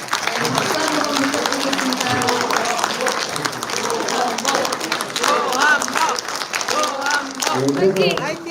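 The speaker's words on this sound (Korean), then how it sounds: "박수 한번 주십시오" Audience applause at a political candidate's book talk event in Yeoju-Yangpyeong, steady clapping from a crowd lasting several seconds with voices and cheering mixed in throughout.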